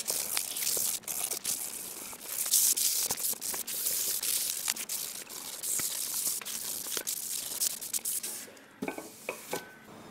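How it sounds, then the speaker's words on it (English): Wood edges for a Tower of Hanoi build are hand sanded in close, scratchy rasping strokes with crinkly, papery texture and occasional sharp knocks, continuing steadily without talk. "this is when I'm going to start sanding the edges as well"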